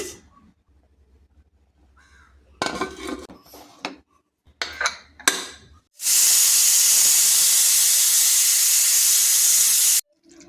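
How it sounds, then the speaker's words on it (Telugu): A pressure cooker holding mutton curry lets out a loud, sustained whistling hiss for about four seconds, after a few earlier bursts of clatter and steam. "కుక్కరు ఫైవ్ విజిల్స్ వేసాక ఆఫ్ చేసుకున్నానండి"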